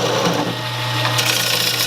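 Bowl gouge cutting a wooden bowl on a wood lathe, a steady close scraping and shaving hiss over the lathe's constant motor hum.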